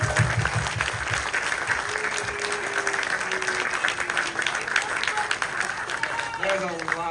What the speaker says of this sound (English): I would actually like to give a round of applause, just appreciation for making this happen for us.